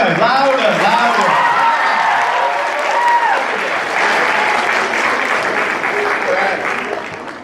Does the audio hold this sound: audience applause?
yes